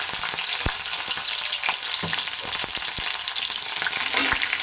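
Garlic fries in hot oil with mustard seeds and cumin, a loud dense sizzle with scattered popping crackles of the seeds, close and continuous without speech.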